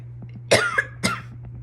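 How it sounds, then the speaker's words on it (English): Two sharp coughs close to the mic during an active cycle breathing exercise, the first bursting louder and slightly drawn out, the second shorter, over a steady low hum. "try and give it another huff and then a cough as well"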